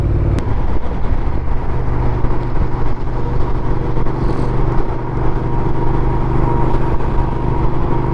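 A motorcycle is ridden on an open road at moderate, steady speed, its engine droning loud and constant with heavy wind rush throughout and no voices.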